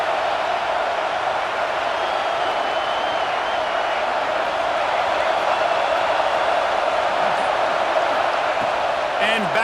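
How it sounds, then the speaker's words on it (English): A packed stadium crowd in EA Sports College Football 26 roars in a steady, loud wall of cheering that holds for the whole stretch, with no let-up. "Listen to this crowd just shaking the girders of this place"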